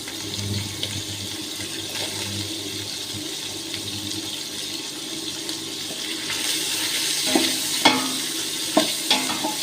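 An onion goes into hot vegetable oil in a pot for beef and vegetable stew, making a steady close frying hiss that swells in the last few seconds, with a few sharp spattering crackles near the end.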